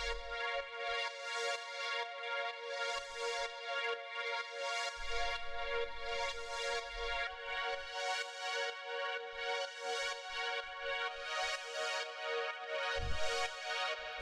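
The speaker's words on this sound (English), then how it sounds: "This is a pretty standard sort of cosmic techno style pad." A sustained cosmic techno synth pad hums with rich, shimmering harmonics, swelling and pulsing gently in a steady rhythm, with occasional low thumps underneath.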